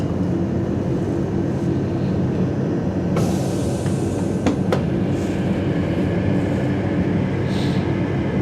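A passenger train pulling into Tamworth station, a steady loud rolling rumble heard from on board, with a couple of brief high squeals partway through.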